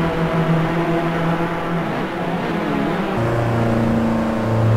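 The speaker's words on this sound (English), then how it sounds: "Watch Philippensa under braking for the NGK chicane." Race car in a sim racing game braking hard for the NGK chicane at the Nürburgring, engine tone dropping through downshifts then settling into a steady drone, loud and continuous with no talk.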